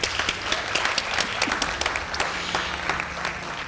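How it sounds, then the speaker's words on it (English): At a scholarship induction ceremony, an audience applauds the parents with a steady round of clapping. Individual sharp claps stand out within the sustained sound. "so let's give our parents a round of applause."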